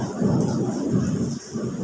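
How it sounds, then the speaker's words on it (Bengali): Heavy rain pours steadily outside a home kitchen, with low rumbling thunder rolling beneath the constant downpour, fairly loud and continuous throughout with no break. "প্রচণ্ড বৃষ্টি হচ্ছে, সাথে বজ্রপাত হচ্ছে।"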